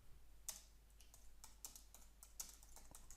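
Keys tapped on a computer keyboard while editing website text, a quiet, irregular run of light clicks with a few sharper strokes, heard alone over faint background hiss.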